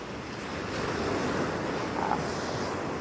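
Steady rush of ocean surf breaking on a beach, with wind buffeting the microphone, continuous and fairly loud.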